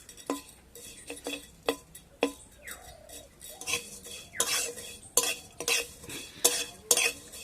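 Vermicelli frying over a low flame and being stirred in a pan, with repeated sharp scrapes and clinks of a metal spatula over a faint sizzle, no talk.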